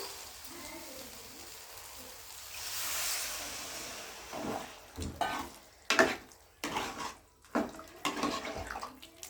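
Water poured into a masala curry in a cooking pot, a soft watery rush that swells, then gives way to stirring scrapes and clinks with a faint sizzle, near and alone.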